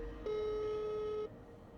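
A call to a landlord's phone, heard as a single steady electronic line tone lasting about a second, fairly faint, with no talk over it.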